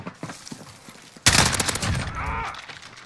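Bursts of M4A1 rifle fire from a video game, a sudden loud rapid volley of shots after a quieter stretch, ringing out close and dense before trailing off.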